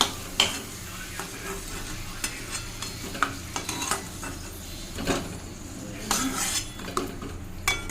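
Fried potatoes for a chicken curry are lifted one at a time from a pan of hot oil, with a soft ongoing sizzle under intermittent metallic scrapes and clinks of a utensil against the pan, close and without talking.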